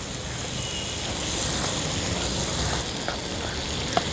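Peas and other ingredients get stirred together in a frying pan of fresh turmeric vegetable cooked Rajasthani style, a steady broad sizzle with soft scraping throughout and one small clink near the end.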